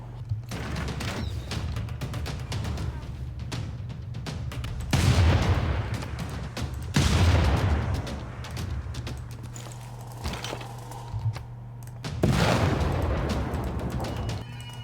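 Units attack a city in Civilization VI as Babylon on Deity difficulty, with loud volleys of gunfire and booming impacts that arrive in several heavy waves over a steady background rumble of battle.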